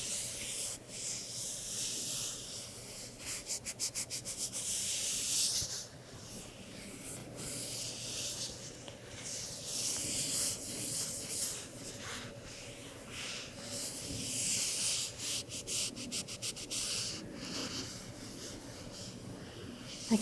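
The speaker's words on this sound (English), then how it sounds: "Rubbing the orb along the entire body, absorbing all of the energy." An orb is rubbed slowly along a whole body during a sleep-focused ASMR energy session, giving a soft, close, continuous swishing hiss that swells and fades in long strokes with faint scratchy ticks and no talking.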